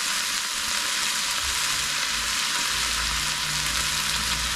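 A kimchi and avocado dish warming in a hot pan gives a steady, loud, hissing sizzle that runs unbroken throughout, close up and with no voices.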